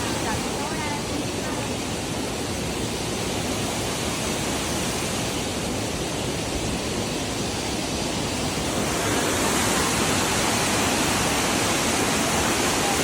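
Somnath waterfall rushes in a steady, loud broadband roar that fills the whole stretch without pause, swelling slightly toward the end.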